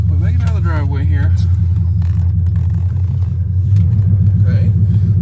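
A Chrysler 300C with a 5.7 Hemi V8 and long tube headers idles with a loud, deep, lumpy rumble close by, steady throughout while people talk over it.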